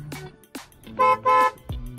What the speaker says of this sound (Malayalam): ഇതാണ് നമ്മുടെ പുതിയ ഹോൺ.